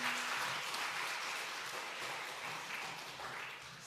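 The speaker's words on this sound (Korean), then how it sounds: "박수 해주세요" A church congregation at a Korean Sunday afternoon service claps together in steady, dense applause that runs evenly for a few seconds, with no talking over it.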